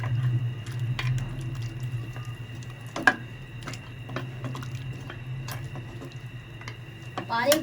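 Meat for nalli biryani is stirred in a pot, giving soft wet squishes and scrapes with occasional sharper clinks against a low background hum.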